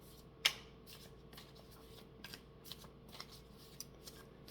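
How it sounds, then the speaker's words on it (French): Tarot cards are shuffled by hand in a quiet room, opening with one sharp snap followed by soft, irregular riffling and flicking of the deck close by, with no talking. "Donc je brasse."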